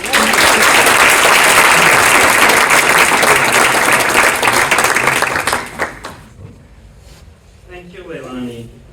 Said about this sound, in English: Please join me in a round of applause as we welcome the Dean of College of Health Professions